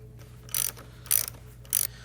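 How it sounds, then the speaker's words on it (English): A 1/2 inch socket ratchet clicks in three short bursts while tightening the starter positive cable on a Milwaukee 8 Harley-Davidson Touring motorcycle, crisp and close against quiet shop background. "You need a 1/2 inch socket to put that back on"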